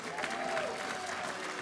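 Applause from an awards ceremony audience, steady clapping with a faint tonal sound and some voices mixed in beneath it.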